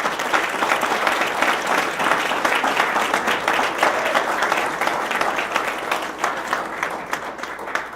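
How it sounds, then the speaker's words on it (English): A conference audience gives sustained applause welcoming a keynote speaker, dense steady clapping from many hands that fills the room evenly and tapers slightly toward the end. "So if you can give a round of applause for Dr. William Hite."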